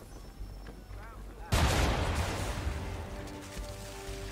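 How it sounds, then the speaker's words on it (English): A ship's cannons in Assassin's Creed III fire together in one massive booming broadside after a quieter stretch, the roar ringing out and slowly decaying, with talk heard before it. "Now, aim all guns at her bow and do as much damage as possible."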